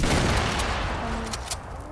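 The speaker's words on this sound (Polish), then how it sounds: "ale fajny wybuch" A loud burst of explosive noise in Fortnite with crackling rumble, dense and sustained, like a blast going off up close.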